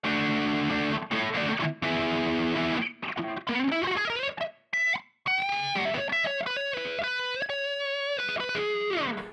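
Distorted electric guitar with effects plays riffs and sustained bent notes, with brief pauses between phrases.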